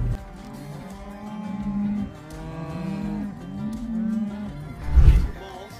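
Cattle on a Canadian village farm moo in long, drawn-out calls that rise and fall close by, overlapping one another, with a deeper thump of movement near the end.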